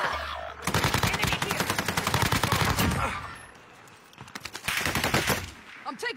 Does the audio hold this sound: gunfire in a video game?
yes